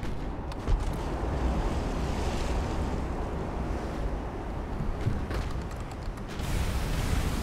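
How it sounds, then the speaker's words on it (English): Ocean waves surge against warships in the naval game Ultimate Admiral: Dreadnoughts, a continuous rushing wash of surf and wind with swelling and easing gusts, steady and unaccompanied by voices. "The way that the ships buffet against the waves."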